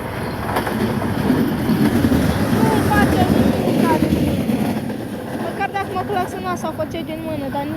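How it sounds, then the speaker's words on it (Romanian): A red passenger train rumbles past nearby with a heavy, rolling roar that swells and fades, while a person talks over it. "Vine trenul dincolo, este săgeata roșie."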